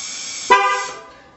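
Pickup truck horn giving a single short honk as a TPMS sensor is learned during tire rotation, a brief loud toot over a steady engine idle that fades quickly.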